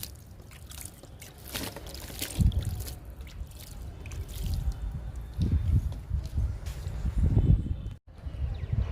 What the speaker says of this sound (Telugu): విత్తనం నాటాం కదండి వాటర్ ఇచ్చేద్దాం